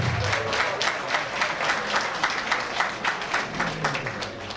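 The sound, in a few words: audience applause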